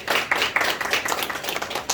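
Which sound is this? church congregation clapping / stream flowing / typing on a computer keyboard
church congregation clapping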